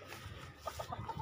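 Chickens in a small, clean backyard coop give a few soft, short clucks, quiet and close over a faint background murmur.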